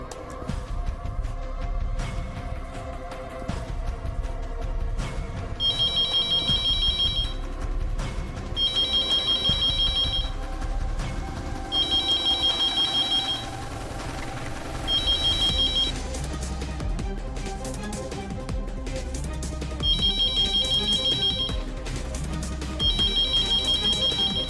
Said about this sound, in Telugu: మా ఇంటి ల్యాండ్ లైన్కి కాల్ చేయండి